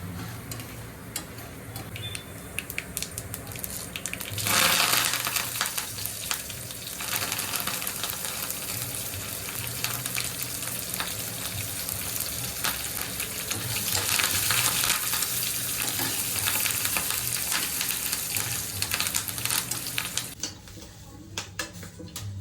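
Urad dal, cumin, mustard seeds, chana dal, dried red chillies and finely chopped ginger fry in hot oil for a tempering, a steady close sizzle with light crackles and occasional utensil clinks, ending abruptly near the close.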